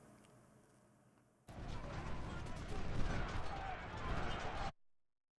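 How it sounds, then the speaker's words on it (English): Musket volleys from infantry units in the Civil War game Ultimate General: Civil War, arriving as a dense, sustained crackle of overlapping shots for about three seconds before cutting off abruptly, with faint voices beneath. "skirmishers firing into the melee, but I'm having infantry units fire into the melee"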